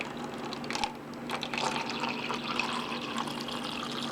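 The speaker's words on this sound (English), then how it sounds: "I like to really cover everything pretty good with water." RO water poured into a container holding Nepenthes stem cuttings, a steady close trickle and splash running throughout with a few brighter drips standing out.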